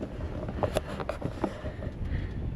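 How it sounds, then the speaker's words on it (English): Strong wind buffets a microphone on a windy New Zealand mountain lookout, making a steady low rumble with a few sharp gusty thumps. No one speaks. "Oh my God, it's so windy here."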